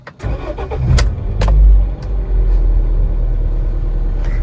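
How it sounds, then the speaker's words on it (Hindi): A car engine cranks briefly and catches on the first self-start, then settles into a loud, steady low idle rumble close to the listener. "ये इसका इंजन चेक कीजिएगा, आवाज़ ज़रा सुनिएगा कि एक सेल्फ में गाड़ी स्टार्ट होगी"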